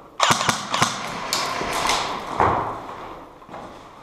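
Three quick sharp snapping airsoft gun shots fire close by, followed by a few more spaced pops as the echoes fade.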